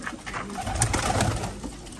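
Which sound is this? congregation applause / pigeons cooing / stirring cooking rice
pigeons cooing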